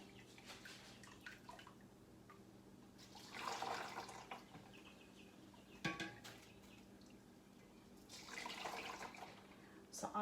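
Homemade vegetable broth is strained, with quiet trickling and splashing of liquid in a few separate pours among soft clinks and faint kitchen sounds.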